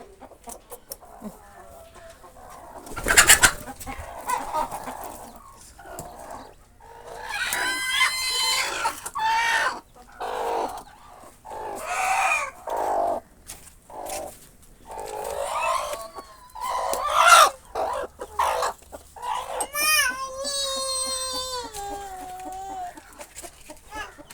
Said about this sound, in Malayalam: നമ്മളെ റോസ്മോള് കുട്ടികളെ പിടിക്കാൻ വേണ്ടിയിട്ട് കരയുന്നുണ്ട് കേട്ടോ.